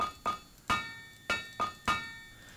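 Hammer strikes on metal at an anvil in the game TerraFirmaCraft: six sharp, ringing clangs in an uneven rhythm, close and clear with no voices.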